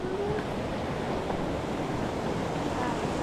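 Steady rushing of stream water flowing over rocks, a continuous broad hiss close by with no distinct pauses.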